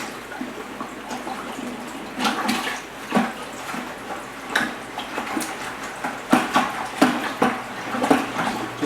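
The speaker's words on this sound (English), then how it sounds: "So I'm just going to stir up the sugar," Sugar and peaches being stirred in water in a 5-gallon container for homemade peach wine, giving repeated sloshing swirls and soft knocks that grow louder and more frequent toward the end, with no talking.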